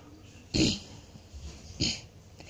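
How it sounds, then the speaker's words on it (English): Two harsh coughs, close and fairly loud, spaced about a second apart against quiet room noise. "Sorry about my cough, by the way."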